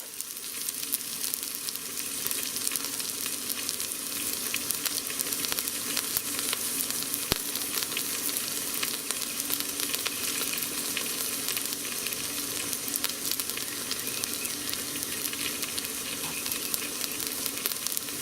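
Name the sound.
herbed pork loin roast searing in a pan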